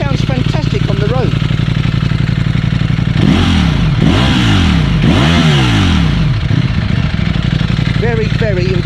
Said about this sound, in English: I'll turn it on, the exhaust sounds amazing.